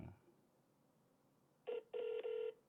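Telephone keypad tones sound on an automated phone menu: a short beep, then two longer tones in quick succession after the menu prompt.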